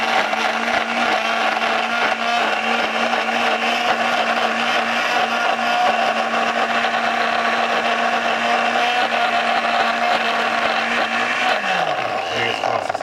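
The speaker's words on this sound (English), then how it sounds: "I know, it is on low. But the problem is this ain't the Ninja blender" A blender that is not a Ninja model runs on low, crushing ice for a homemade slushie, a loud steady motor whir with gritty churning that drops in pitch as it winds down at the end; people talk over it.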